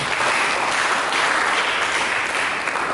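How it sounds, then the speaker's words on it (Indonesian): A church congregation claps in dense, steady applause filling the room, loud and close, without a break. "Beri tepuk tangan bagi dia."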